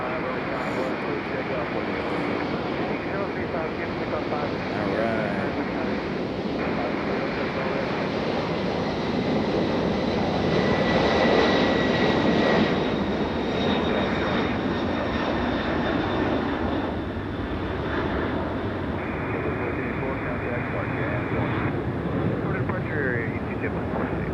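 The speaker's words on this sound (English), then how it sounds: "MD-11 back to Louisville." A cargo MD-11 jet takes off from Raleigh-Durham airport, a steady broad engine roar that swells slightly near the middle and holds throughout, with wind buffeting the microphone.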